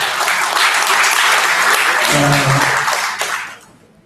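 Loud, dense applause from an audience at a public lecture on child protection, sustained for about three seconds before quickly dying away, with a brief murmur of voices partway through.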